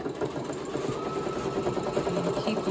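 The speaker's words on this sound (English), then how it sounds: "I'm gonna try to finish sewing." A home embroidery machine stitches a full Minnie Mouse design onto a shirt, its needle chattering in a fast, steady whir that stays close and even throughout, with no talking.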